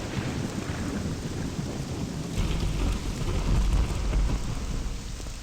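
Inside the fantasy role-playing game Morrowind, a stormy night brings steady heavy rain and deep rolling thunder that builds to a loud low rumble midway through, with no voices.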